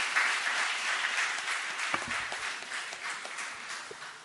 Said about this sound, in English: Can we have a big round of applause for the people on the dais